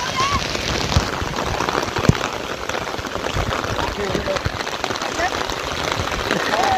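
Heavy monsoon rain pours steadily during fishing, a thick hiss of drops on surfaces, with occasional thuds and faint voices mixed in.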